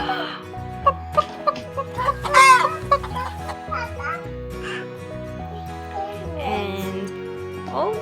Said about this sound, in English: There's one goose and a chicken.